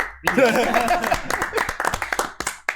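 A studio audience on a Turkish comedy talk show claps loudly at first, the applause thinning into scattered individual claps that fade out near the end, with some voices mixed in.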